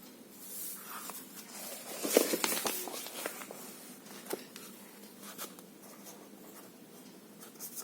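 Pen strokes scratch across paper as a maths solution for a 7th-grade percentages problem is written out, close and fairly quiet, in short irregular bursts with small taps and pauses between them, and no speech.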